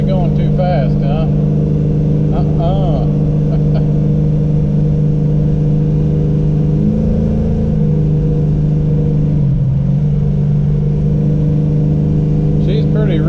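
A car engine fitted with a Holley 850 Brawler carburetor runs at partial throttle, a loud, steady low drone heard from inside the car, with a voice talking over it.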